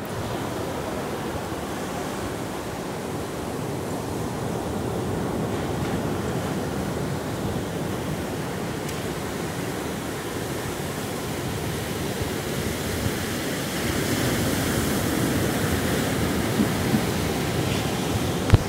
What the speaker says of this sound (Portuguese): E eu vou mostrar um pouquinho do mar pra vocês.